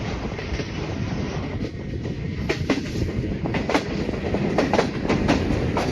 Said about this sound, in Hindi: ट्रेन यहाँ पर मोड़ काटती जाएगी, कभी लेफ़्ट साइड पर कभी राइट साइड पर